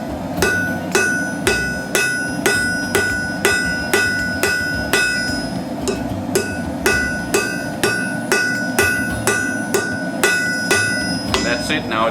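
A hammer strikes hot metal heated in a homemade propane forge, a long run of sharp, ringing, evenly spaced blows close by, over a steady roar with a brief pause partway through.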